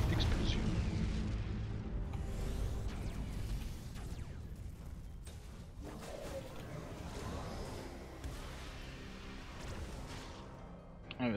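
Space battle explosions from the video game Battlefleet Gothic Armada II, a dense, continuous wash of booms and blasts with several sharper bursts, loud and layered throughout the mix.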